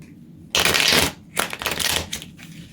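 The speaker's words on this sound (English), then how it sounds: "I have pre-shuffled, but let's just riffle again." Tarot cards from a Twin Peaks deck are riffle shuffled up close, with a loud burst of riffling, a short pause, then a second flurry of rapid card flutters and a final brief snap.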